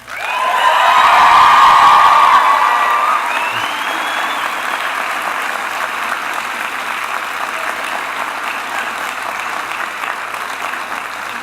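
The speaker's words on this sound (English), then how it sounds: "How about now giving a round of applause to everyone who helped get you to this moment?" Audience applause at a Mohawk College Educational Assistant diploma graduation ceremony, a loud, sustained wash of clapping from a large crowd that peaks early, then settles to a steady roar with a few scattered cheers.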